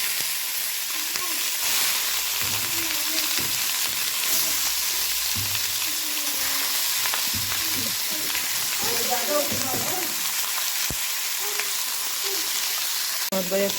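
Lamb pieces searing in a heated pan, a dense continuous sizzle like light rain running throughout, with faint clinks and scrapes of stirring beneath it.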